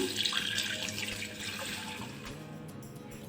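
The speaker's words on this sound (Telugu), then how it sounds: "వాటర్ పోస్తున్నాను." Water pours steadily into a bowl of rose petals with a bright splashing hiss that gradually softens and settles toward the end.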